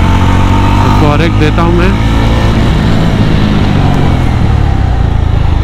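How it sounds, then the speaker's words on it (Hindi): A Yezdi Roadster motorcycle with dual-channel ABS brakes hard, its engine droning loudly and steadily close by while someone talks over it. "जैसे आप देख रहे हो मोटरसाइकिल रुक रही है ताबड़तोब, जैसे मैं ब्रेक खींच रहा हूँ"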